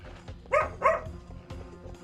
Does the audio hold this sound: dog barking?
yes